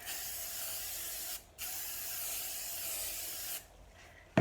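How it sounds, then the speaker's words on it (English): Two bursts of non-stick cooking spray hiss onto a baguette pan, each a steady close-up spray separated by a short pause, with a brief clatter at the very end. "I'm just going to spray them with just a little bit of non-stick cooking spray"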